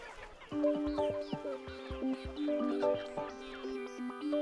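A flock of chickens cluck and chatter busily while pecking at live black soldier fly larvae, overlapping close calls in an uneven rhythm with some soft pecking knocks underneath.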